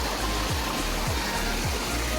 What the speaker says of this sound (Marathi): आणि धबधबा पण दिसतोय छोटासा बघा